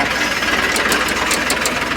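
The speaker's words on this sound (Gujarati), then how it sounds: "આપણે ટ્રેક્ટર લઈને કેવી રીતે જાય છે" Tractor engine running in a field, a steady loud rumble with a rough knocking throb close by and no voices.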